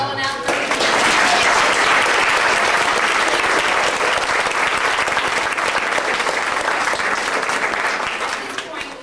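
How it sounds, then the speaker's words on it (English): Audience applause at a television variety show swells quickly into loud, sustained clapping from a large crowd, holding steady for several seconds before tapering off. "Let's give Sadell an applause."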